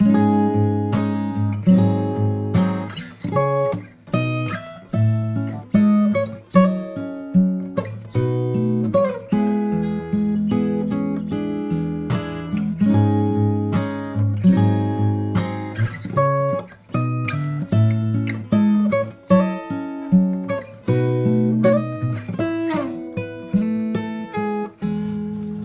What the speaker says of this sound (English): The higher octave of the B section sounds like this.